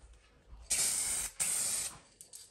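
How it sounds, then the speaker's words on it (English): Two bursts of hissing spray from a paint spray gun painting parts of a 1968 Chevy Nova, each about half a second to a second long, close and loud, with a brief pause between them. "that's about all I'm going to spray for now."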